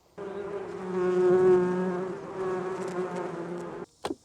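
Honeybees swarm around an opened beehive topped with a bucket feeder, a loud steady buzzing that swells and eases for several seconds, alone without talk, ending with a brief knock.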